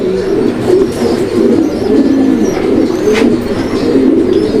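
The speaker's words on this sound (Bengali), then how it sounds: "দেখেন নর কীভাবে ডাকা দেখেন" A male pigeon cooing up close, loud repeated rolling coos in a steady rhythm, with occasional faint background noise.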